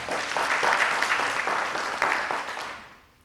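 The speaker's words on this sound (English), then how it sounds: "Well done. A round of applause." An audience at a regional review event applauds in steady, dense clapping that holds for a few seconds and then fades out quickly at the end.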